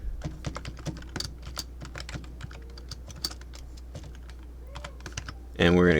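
Rapid clicking keystrokes on a new computer keyboard tap out in quick irregular bursts, close and crisp, over a low steady hum, before a voice starts at the end.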